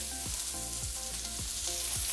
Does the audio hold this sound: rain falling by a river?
no